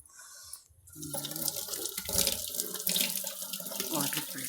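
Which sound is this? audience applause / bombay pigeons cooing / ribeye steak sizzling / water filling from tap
water filling from tap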